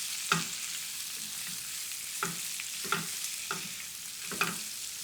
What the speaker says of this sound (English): Turn it up slightly, and I'm just going to start to give those a stir.